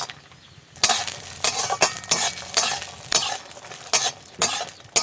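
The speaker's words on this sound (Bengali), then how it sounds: "বড়িগুলো ভেজে নিচ্ছি।" Homemade bori, small lentil dumplings, fry in hot oil, a loud close sizzle broken by repeated scraping stirs and light clinks of a spatula against the pan, with no talk.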